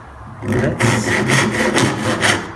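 A blunt chisel scrapes and rasps through wood while cutting a housing joint, a close, loud series of rough rubbing strokes in quick succession.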